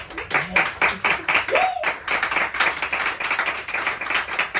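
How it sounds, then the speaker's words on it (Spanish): Clapping from a large audience at a talk event, applauding two guest union specialists; steady, dense applause through the whole stretch with a voice briefly rising over it near the start. "Elisa y Guillermo, por favor, un fuerte aplauso para ellos."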